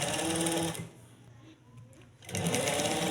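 A sewing machine stitching along a piping edge runs loudly in a steady whir, pauses for about a second and a half, then starts again at full speed.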